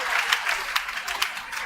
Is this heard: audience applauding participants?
yes